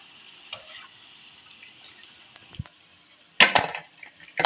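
Spinach pakoras in hot frying oil, a soft steady sizzle that breaks into louder bursts of crackling spatter as the pieces are flipped, close up, no voices.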